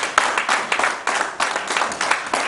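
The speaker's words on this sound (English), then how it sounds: "Give him another round of applause." An audience at a Nigerian sports journalists' convention claps in a burst of loud, close applause, individual hand claps popping out of a fast, uneven patter for a couple of seconds.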